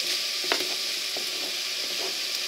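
Chicken meat sizzles loudly in a pan of frying onions as it is stirred, a dense steady hiss with a few scraping clicks and no voices.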